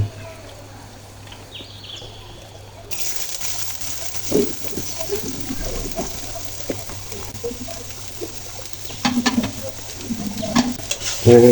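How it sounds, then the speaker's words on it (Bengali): Carrots and mixed vegetables frying in a little oil for fried rice, a steady sizzle with scraping stirs and occasional clinks of the spatula, close and moderately loud, faint voices in the background. "প্রথমে গাজরগুলো ভেজে নিচ্ছি কারণ গাজর নরম হতে বেশ সময় লাগে"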